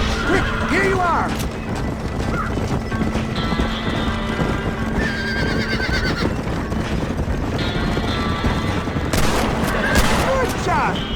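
Gunfire in the western video game Red Dead Redemption: rapid shots crackle amid horses whinnying and clopping, with steady game ambience and brief spoken lines throughout.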